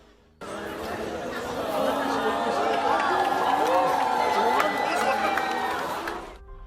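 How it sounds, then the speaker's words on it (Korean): A crowd at a waterfront park, gathered at outdoor drinking spots at midnight as 74 street lights switch off, breaks into a steady roar of chatter with scattered whoops and cheers, sustained and fairly close throughout. "그러나 예상 밖의 술자리 곳곳에서는 환호가 터져 나옵니다."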